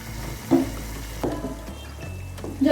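Kadhi, a yogurt curry, simmers in a pot with a soft, steady bubbling hiss, broken by a few brief scrapes and knocks of a stirring spoon close by.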